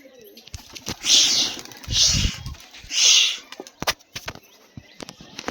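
Pigeons released into flight produce three distinct bursts of flapping wings about a second apart, followed by scattered sharp clicks and light rustling nearby.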